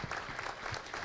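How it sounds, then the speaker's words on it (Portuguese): A small group claps for the farmers at a youth-and-agribusiness panel, a brief burst of close, quick hand claps lasting about a second. "Uma salva de palmas, só nós daqui para eles."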